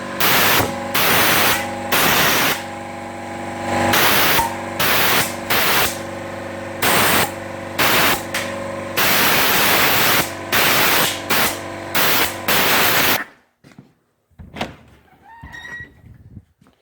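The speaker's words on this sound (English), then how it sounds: "Blow out any debris." Compressed air blasts debris off a Chevy 6.5 diesel cylinder head in loud, broadband hissing bursts, a rapid series of on-off spurts for about thirteen seconds, then quiet with faint handling noises.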